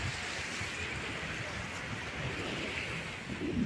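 Sea surf washing steadily along a Mindanao coastline, a continuous broadband roar with some wind buffeting against the microphone and no voices.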